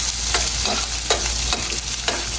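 Onions and curry leaves fry in a pan with a dense, close sizzle, broken by a few scraping stirs of a spatula at a loose rhythm.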